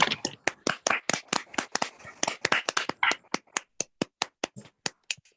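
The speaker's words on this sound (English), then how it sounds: "give her a big round of applause, because that was amazing" A handful of people clap for a speaker on a live video call, close, sparse and uneven claps in a quick irregular rhythm that thin out toward the end, with no talking.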